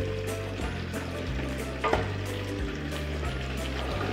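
Beef paya curry stirred and fried in a pot, a steady close sizzle with a low rhythmic scraping and churning from the stirring and one brief louder knock partway through.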